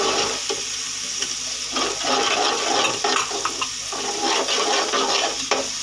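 Spices sizzle and crackle steadily in a hot pan for beef keema yakhni pulao, with occasional stirring scrapes, close and continuous with no talking.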